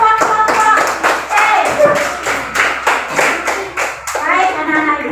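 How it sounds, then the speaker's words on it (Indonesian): Schoolchildren clap for a classmates' group in class, a burst of sharp, fast, uneven claps up close, mixed with children's voices and chatter and ending with a spoken voice. "tepuk tangan buat kelompok C"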